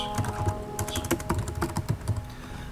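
Keys on a computer keyboard are tapped in a steady run of soft, close clicks at a fairly quick pace.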